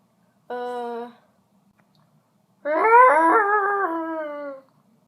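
A person makes two drawn-out, wavering vocal calls imitating a manatee, a short one followed by a longer, sliding moan after a pause.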